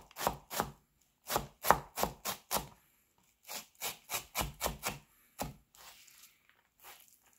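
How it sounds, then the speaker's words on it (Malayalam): A knife finely chops onion on a board in quick rhythmic runs of crisp strokes separated by short pauses. The sound is close and clear, with no talking. "ഇത് വളരെ ചെറുതായിട്ടാണ് അരിയുന്നത്."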